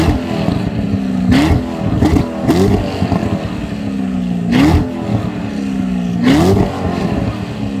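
A Corvette's 7-liter V8 on its stock exhaust revs in several quick blips, each rise and drop repeating, fairly loud and close with no talk over it.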